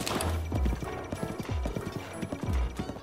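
Rapid hoofbeats of a horse in The Legend of Zelda: Breath of the Wild clip-clop in a steady galloping rhythm, loud and close, repeating in bursts with no voices.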